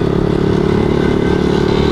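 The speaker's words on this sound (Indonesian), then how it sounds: "Mantap Vespa kenceng." A Vespa scooter engine runs fast and loud up close, a steady rough buzz with no talking.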